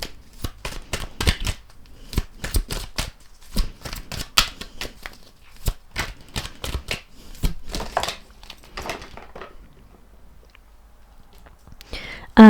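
Tarot cards are shuffled and pulled in quick, crisp flicking and riffling bursts close by, with short pauses in between and a sharp tap at the end.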